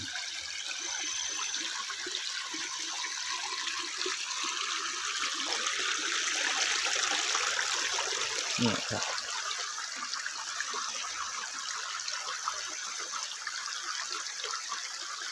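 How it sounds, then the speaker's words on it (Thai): A small year-round stream trickling steadily, a continuous gentle rush of flowing water close by, with a brief spoken word over it. "น้ำไหลไม่แรงนะครับ แต่ว่าจะไหลทั้งปีเลย"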